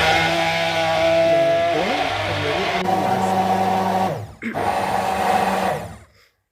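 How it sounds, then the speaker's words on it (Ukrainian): A kitchen blender whirs loudly and steadily as it blends washed walnuts with cool water into a nut milk. The motor pitch shifts slightly partway through, dips briefly near the end, and then the blender stops. "Горіхи, які ми добре промили, засипаємо е, у чашу блендера і наливаємо півлітри води від відстояної прохолодної. Тоді блендеримо."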